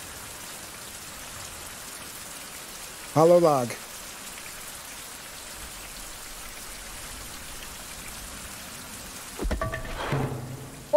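Continuous rainfall in the survival game Survival: Fountain of Youth, a soft, steady hiss throughout. Someone speaks briefly over it, and a couple of louder bursts of game sounds cut in near the start and end.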